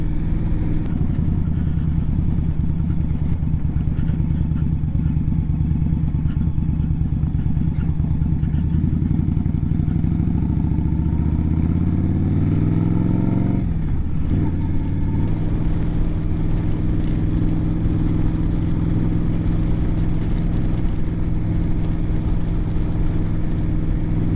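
An Indian Scout motorcycle rides along steadily with a constant engine drone, briefly dropping as it shifts about midway before settling back into an even, loud hum.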